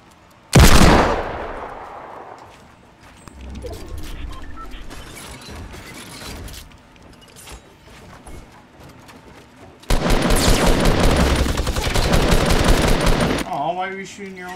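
Gunfire in the video game Fortnite: a sharp loud blast opens, followed by scattered shots, then a sustained rapid burst of automatic fire near the end, with a voice talking in between.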